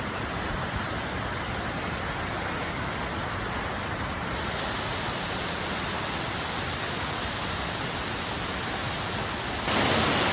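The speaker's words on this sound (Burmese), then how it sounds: "ဒီရေတံခွန်ကို Avalanche Fall လို့ခေါ်တယ်" Avalanche Falls at The Flume pours steadily during a rainy hike, a dense, continuous close-up roar of falling water that stays even and loud throughout.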